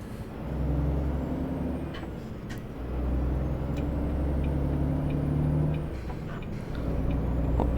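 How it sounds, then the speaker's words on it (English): Truck with a stock transmission in American Truck Simulator: a droning diesel engine that shifts pitch through gear changes, a brief grinding at a shift, and faint hisses and clicks from the cab. "There's a little bit of gear grind."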